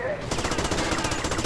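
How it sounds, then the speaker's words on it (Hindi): Rapid automatic gunfire in GTA Vice City, a steady dense burst of loud shots fired at a car, continuous and close throughout. "अब मैं इस पर गोलियां बरसाऊंगा, फिर लगेगी इसमें आग"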